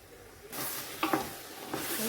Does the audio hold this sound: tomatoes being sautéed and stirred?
yes